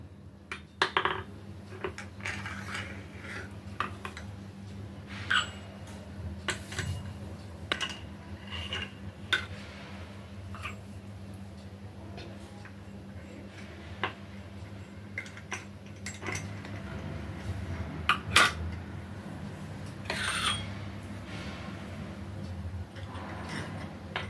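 Metal idli steamer plates are handled and set into their stand, giving scattered light clinks and taps at irregular intervals, close but fairly quiet against a faint steady hum.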